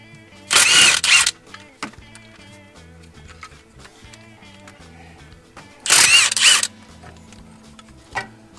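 A power drill runs in two short, loud bursts of about half a second each, driving bolts back into a 1964 Ford Galaxie, with quiet clicks and small tool handling sounds in between.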